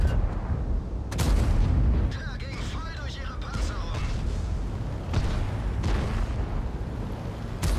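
Heavy tank cannon shots from a Conqueror in World of Tanks, a few sharp booming blasts breaking through a dense battle rumble, with voices talking underneath.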